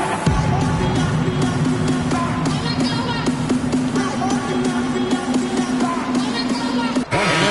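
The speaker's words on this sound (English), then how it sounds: "Big round of applause for that." Crowd noise from an NBA 2K26 Lakers versus Trail Blazers basketball game, a steady roar of cheering and applause under a busy arena din during a timeout, with a brief dip near the end.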